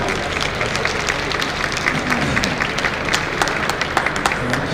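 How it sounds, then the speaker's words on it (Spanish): Audience applause welcoming a speaker onto a stage, a dense, steady wash of clapping from a crowd that holds at an even loudness throughout. "con este aplauso recibimos y le damos la cordial bienvenida a Alejandro Gutiérrez"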